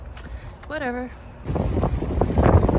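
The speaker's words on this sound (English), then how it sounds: "It's so windy in here, it's so cold." Cold wind gusts buffet the microphone outdoors during a walk, a rough rumbling roar that rises after a short spoken phrase and stays strong to the end.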